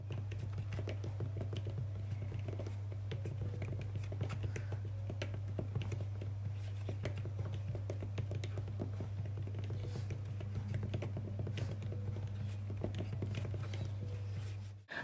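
Typing on an Apple iPad Magic Keyboard, heard as a steady stream of quick, close key clicks and taps under a constant low hum, with no talking.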